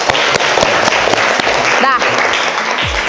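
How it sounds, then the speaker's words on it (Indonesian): A classroom group claps together in steady sustained applause, dense and close, with a voice briefly heard partway through and a short low thump at the end. "Tepuk tangan buat kita semua"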